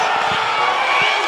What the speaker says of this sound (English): this crowd is going off